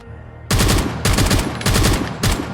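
A customized weapon fires in the Gunfighter mod video game: four loud, close bursts of rapid automatic gunfire separated by short pauses.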